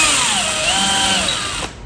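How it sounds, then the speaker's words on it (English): A power drill whines steadily as it bores a hole in wood for a front-yard arbor and gate, loud and close, its pitch sliding down under load before the motor stops. "use this drill to start some holes"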